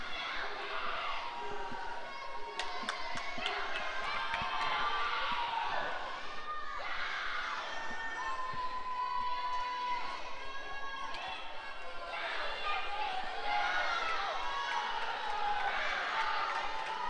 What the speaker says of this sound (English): You can hear the crowd yelling for the prospective swimmers